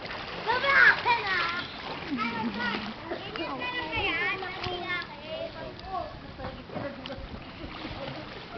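A child swimming in water makes repeated splashes and churning sounds close by, mixed with children's voices and excited chatter throughout.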